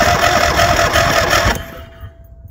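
A car engine with a couple of issues cranks and churns on a Craftsman jump starter without catching, a loud, steady grinding for about a second and a half, then cutting off abruptly into near silence.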